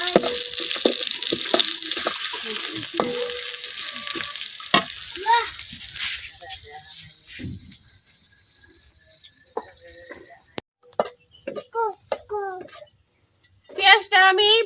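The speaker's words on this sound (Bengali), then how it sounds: "এখন পেঁয়াজগুলো একবার লাল লাল করে ভাজে নেম।" Sliced onions fry in a pan for beef biryani, browning with a steady hiss and sizzle while a child and an adult talk over it, with occasional stirring and clatter.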